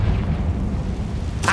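Confringo spell explosion in Hogwarts Legacy, a low continuous rumbling boom with a sharper burst right at the end.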